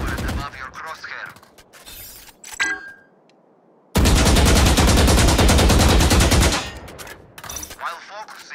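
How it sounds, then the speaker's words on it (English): Sustained automatic gunfire in Valorant pours out as one loud, dense burst of about two and a half seconds aimed at a target, with voices talking before and after it. "Focus your aim, then fire a full magazine into the target."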